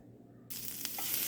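Oil heating in a pan breaks into a loud, steady sizzle after half a second of near silence, the hiss swelling a little as it goes on, with no talk.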